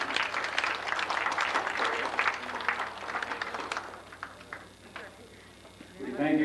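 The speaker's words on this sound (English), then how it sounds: "I'd like to give them a round of applause at this time." A room at an American Legion award dinner in 1990 breaks into applause, dense and steady at first, then fading out as the clapping tapers off, with a voice coming in at the end.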